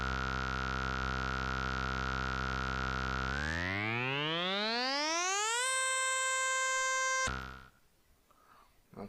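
A Samplur sampler plays a sustained buzzy synthetic tone, pitched down one octave, that holds steady, then sweeps smoothly upward, holds at a higher pitch and cuts off abruptly into quiet.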